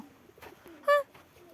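Pigeons outdoors, with a single short, loud coo rising clearly above faint background sounds and softer scattered bird notes on either side.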